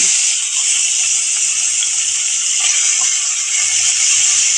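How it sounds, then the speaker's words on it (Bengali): Prawns sizzle in a hot pan for a papaya and prawn ghonto, a loud, even, steady hiss of frying with no pauses. "এবার আমি চিংড়ি মাছগুলো দিয়ে দিচ্ছি"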